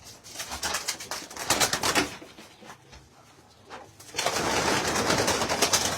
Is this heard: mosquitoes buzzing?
no